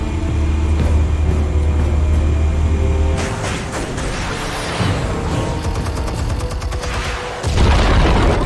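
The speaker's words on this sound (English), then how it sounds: "Explosives armed. Fire when ready." Explosives detonating in the Batman Telltale game: a heavy booming blast erupts after a steady low rumble, followed by crackling debris and rattling bursts, then a second loud low thump near the end.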